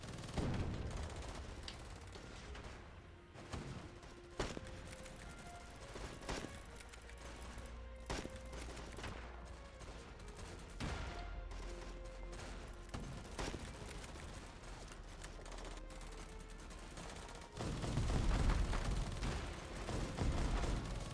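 Many guns firing at once in The Patriotic War, a dense, continuous fusillade of overlapping shots and booms with tanks in the fight, steady throughout and swelling louder near the end, with no talk.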